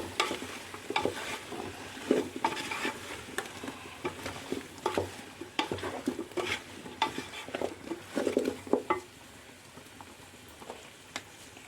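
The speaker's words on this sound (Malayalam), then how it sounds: "പച്ചക്കറികൾ വലുതായി മുറിച്ചത് നമുക്ക് ഇതിലിട്ട് കൊടുത്ത് ഇളക്കി മിക്സാക്കാം" Large-cut vegetables stirred in a pan for a Palakkad-style vegetable dish, with a spoon scraping and clattering in irregular strokes over a faint sizzle, fairly quiet and with no talk.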